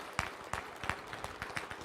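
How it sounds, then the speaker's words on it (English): Scattered, sparse hand claps at an auctioneer competition championship, each a few beats apart, faint and distant, with no voices over them. "give her a round of applause"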